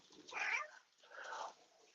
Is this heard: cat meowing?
yes